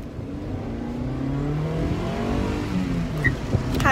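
A 2000 Honda Accord VTEC with a five-speed gearbox drives along, its engine droning steadily from inside the cabin and climbing in pitch as it accelerates.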